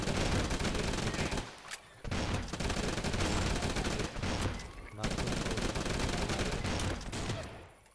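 Rapid, dense machine-gun fire from the mobile game Swamp Attack, sustained in long loud bursts with brief gaps near two and five seconds, no voices over it.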